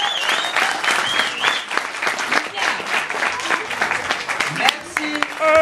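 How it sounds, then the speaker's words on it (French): An audience at a Toronto francophone open mic night claps steadily in a dense, lively round of applause, with a voice speaking over it. "On l'applaudit."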